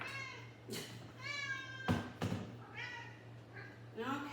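A cat meows repeatedly for food, several drawn-out meows spread across a few seconds, close by, over a steady low hum with a voice murmuring briefly.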